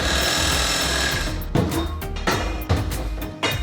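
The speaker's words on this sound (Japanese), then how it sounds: "ドリルの刃が下のフレームを削ってこんな感じの目印がつきますね。" A power drill whirs steadily, then its bit grinds in short bursts against a metal frame, loud and close, with no voices.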